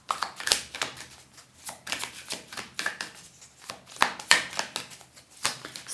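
Tarot cards are shuffled and drawn by hand, giving close, irregular riffling and slapping bursts with soft handling noises between them and no speech.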